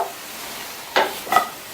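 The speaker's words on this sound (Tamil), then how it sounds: "ஹை ஃப்ளேமில் இருக்கட்டும். 2லிருந்து 3 நிமிஷத்துக்கு ஃப்ரை ஆகிட்டு இருக்கட்டும்." Potato pieces fry in a pan over high flame under a soft background sizzle, and two brief scraping stirs come close together near the end.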